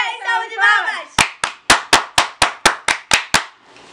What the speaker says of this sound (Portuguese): 10 salvas de palmas!